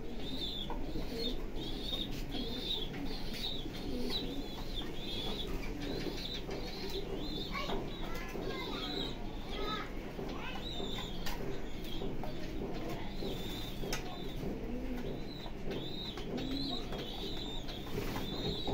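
A pair of young racer pigeons cooing steadily for a long stretch, close and moderately loud, with soft wing flaps and shuffling in the background.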